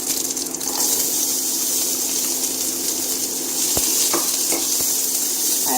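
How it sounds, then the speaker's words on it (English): Onions sizzling steadily in a hot pan with golden-browned garlic, a loud continuous frying hiss throughout with a few faint clicks of a utensil against the pan. "So when the garlic is golden brown, just add the onions."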